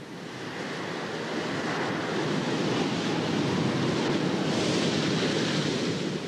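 Surf breaks continuously on the beach at Sylt, a loud broad roar of waves mixed with wind buffeting the microphone, steady throughout with no voices.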